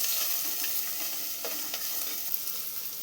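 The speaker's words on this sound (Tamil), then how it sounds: "சின்ன வெங்காயம், கருவேப்பிலையும் போட்டுக்கலாங்க. வெங்காயத்தை நல்லா சிவக்க வணக்கி விட்டுக்கலாங்க" Shallots and curry leaves sautéing in hot oil for an egg curry, a bright, steady close sizzle with occasional soft stirring clicks, no voices.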